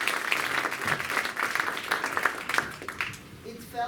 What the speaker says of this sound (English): Let's give them a round of applause as they come out.